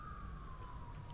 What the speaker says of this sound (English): I don't know if you can hear the siren in the background.